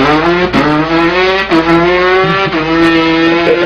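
A human voice imitates a two-stroke dirt bike engine, a loud buzzing rev held steady with a few brief breaks and pitch shifts, like gear changes, over nearly four seconds.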